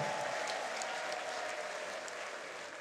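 Steady, dense applause from a church congregation at a stadium gathering fills the whole stretch, broad and even with no distinct individual claps standing out.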